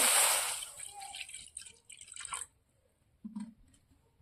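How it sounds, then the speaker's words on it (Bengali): Water poured into a cooking pan for boiling peas at home, a bright splashing gush at the start that trails into drips and small clinks, fairly close. "কড়াই জল দিয়ে দিলাম মটরশুঁটিগুলো দিয়ে দিচ্ছি"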